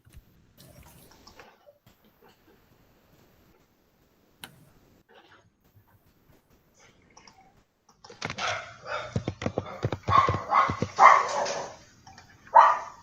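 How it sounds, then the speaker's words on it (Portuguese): A small dog barks in a rapid cluster of sharp yaps during the second half, fairly close indoors, after a long stretch of near silence with only faint ticking and rustling. "Ai, meu cachorrinho."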